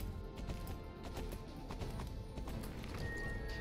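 Horse hooves galloping in the Star Stable video game, a rapid, continuous clip-clop rhythm heard up close, with faint background music and game sounds underneath.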